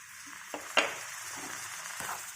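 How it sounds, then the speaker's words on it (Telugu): Water poured into a hot pan of green chilli masala hisses and crackles in a few short sizzling bursts over a soft, steady frying hiss, close and fairly quiet. "ఇందులో కొద్దిగా వాటర్ వేసుకుంటాను"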